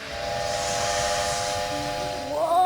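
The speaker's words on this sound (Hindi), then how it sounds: "क्योंकि मैं भाप का इंजन हूँ" A cartoon steam engine, an old train with a chimney, lets out a long steady whistle over a broad hiss of steam, loud and continuous, rising into a brief warbling flourish at the end.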